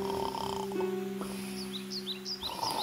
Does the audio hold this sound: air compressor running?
no